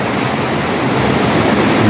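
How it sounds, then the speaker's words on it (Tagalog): Rushing floodwater pours through River Drive toward Las Piñas during Typhoon Goring, a loud, steady broadband roar of churning water, close and continuous with no voices. "Yan pong agos ng tubig papuntang area po ng Las Piñas."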